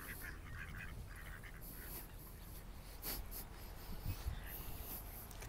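Duck quacks ring out at a lakeside Port Dalhousie walk, a few short calls, one louder near the middle and another toward the end, over steady outdoor wind and ambient noise.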